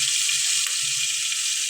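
A paste of ground onion, garlic, ginger and cumin fries in oil in a kadai, giving a loud, continuous hissing sizzle close up with a faint low bubbling underneath and no talking.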